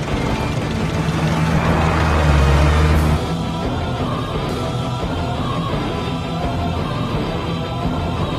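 A vehicle pulls away, its engine rising to a loud rumble and then settling into a steadier, lower drone as it drives off, with no voices heard.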